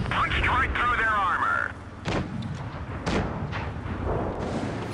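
Tank guns firing in the World of Tanks game, a couple of sharp booming shots over a background hum of engine and battle noise, with someone talking between them.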